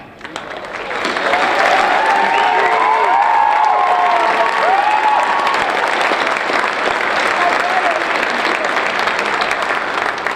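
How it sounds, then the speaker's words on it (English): Audience at a university fall commencement ceremony breaking into sustained applause, building quickly and holding as a dense, loud wash of clapping with some cheering mixed in. "Give them one more round of applause."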